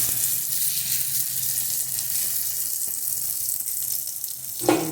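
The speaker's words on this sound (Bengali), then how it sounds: "দেখো বড়া ভাজছি" Batter-coated taro (maan kochu) fritters frying in a wok of hot oil, a steady close sizzle and crackle, with a brief sharper burst of sputtering near the end.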